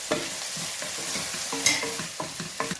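Cloves, cinnamon and cardamom stirred into hot oil in a pan for pressure cooker egg biryani, with a crackling sizzle and repeated spoon scrapes in a steady rhythm, close and without voices.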